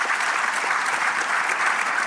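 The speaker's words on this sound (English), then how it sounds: "Please join me in giving them a big round of applause." A conference audience at an African summit applauds its panelists, a steady, even wash of many hands clapping throughout the short stretch.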